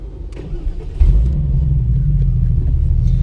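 A Porsche 993 flat-six cranks and fires about a second in, then holds a loud, close rumbling idle, with no one speaking.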